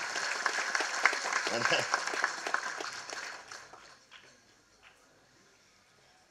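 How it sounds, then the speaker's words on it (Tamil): Audience applause at a film audio launch event rises as dense clapping that fades out over several seconds, with a voice speaking over the start. "ஸோ கொள்ளு பேருனுக்கு ஒரு கைத்தட்டல்."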